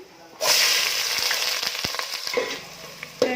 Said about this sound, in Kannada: ಈಗ ಎಣ್ಣೆಯಲ್ಲಿ ಈರುಳ್ಳಿ ಚೆನ್ನಾಗಿ ಫ್ರೈ ಆಗ್ತಾ ಬರ್ತಿದೆ